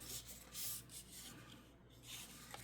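A scoring tool drawn along cardstock at marked measurements for a 3D paper flower shop craft, quiet close rubbing strokes repeated in short bursts with no talk.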